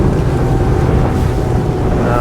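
A Lomac Adrenalina 7 motorboat runs offshore through waves with its engine trimmed fully down, giving a loud, continuous engine drone and rushing water and wind noise close to the microphone.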